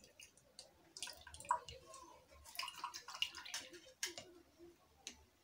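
Grated turnip is squeezed by hand to press out its juice, producing soft wet squishing and dripping sounds in a few short bursts, fairly quiet and close.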